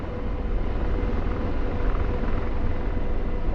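An AH-64 Apache helicopter in the DCS flight simulator gives a steady, loud rotor and engine roar that stays even throughout, with no talk over it.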